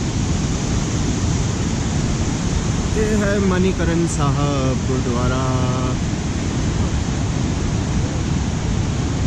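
Rushing, hissing water of a naturally boiling sulphur hot spring at Manikaran Sahib Gurudwara, a loud steady wash throughout, with someone speaking over it briefly in the middle.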